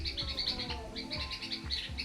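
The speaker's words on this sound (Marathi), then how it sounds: "बुलबुल पक्षाचा आवाज येतोय चिकचू चिचू" Repeated high bulbul chirps in quick bursts over a busy, rumbling background, fairly close and steady across the whole stretch.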